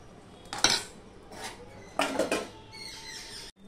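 A metal lid set onto a pot of dry vegetarian papaya curry, with two bursts of clattering metal scrapes and knocks, then a last light rattle before it goes quiet.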